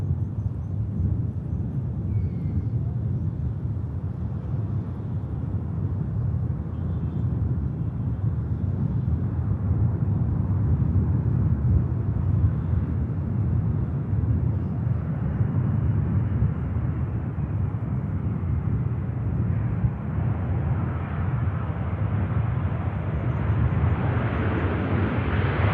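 A Saudi airliner lands at Manchester Airport in blustery wind, giving a long, steady, loud jet roar with broadband rumble and wind buffeting throughout, building slightly toward the end.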